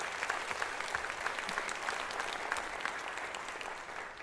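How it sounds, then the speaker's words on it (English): An audience applauds at a college convocation, a fairly faint but even wash of many hands clapping that carries on steadily for several seconds. "Let's give a round of applause for that."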